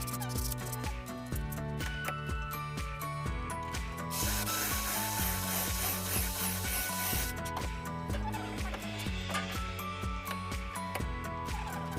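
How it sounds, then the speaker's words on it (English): Wood being hand-sanded to smooth pocket holes while building a kids' sofa: rhythmic rubbing strokes repeat throughout, close and fairly loud, with steady scratchy hissing as the sandpaper moves back and forth over the surface. "Just a quick sand to smoothen off the pocket holes."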